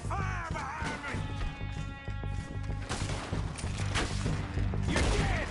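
Dense gunfire crackles through a Red Dead Redemption 2 shootout, with rapid overlapping shots and cracks over a steady in-game background, loud and continuous across the whole span.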